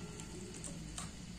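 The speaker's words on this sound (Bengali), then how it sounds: "এইভাবে নাড়াচাড়া করতে করতে এটাকে শুকিয়ে নিতে হবে।" Carrot halwa in milk is stirred in a frying pan, with a steady close sizzle and soft scraping throughout the brief moment.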